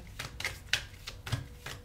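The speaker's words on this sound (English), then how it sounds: "I'm going to keep shuffling till I get the signal to stop here" Tarot cards are shuffled by hand in quick, crisp bursts of riffling and slapping, about six short flurries spaced through the moment, close and fairly quiet with no talking.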